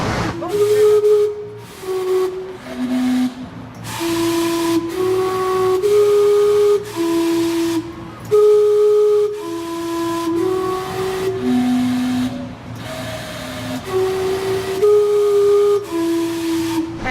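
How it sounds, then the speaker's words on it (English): The Gastown steam clock in Vancouver whistling a short melody with steam, a sequence of clear sustained whistle notes changing pitch over a continuous steam hiss, loud and close. "listen to the steam come out and it play a little song"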